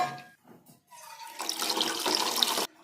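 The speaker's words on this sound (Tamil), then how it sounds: "அதுக்கு தேவையான அளவு தண்ணி விடணும்" Water is poured into a pan of fish curry (kulambu) with tamarind, a close, steady splashing pour lasting just over a second that stops abruptly, after a few faint handling noises.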